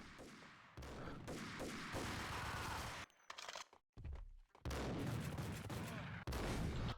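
Enemy gunfire in the video game Max Payne comes in loud, rapid bursts of shots, broken by short quiet gaps and ending in more heavy firing.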